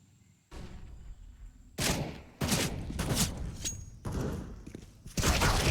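AK rifle gunfire in a Counter-Strike match, several loud bursts of rapid shots separated by brief pauses, with a thin electronic tone early on and no voices.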